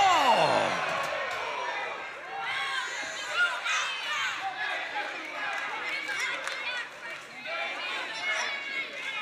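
Wrestling crowd in Memphis at a TNA match cheers and chatters continuously, a dense roar with scattered whoops and bursts, while a commentator talks over it.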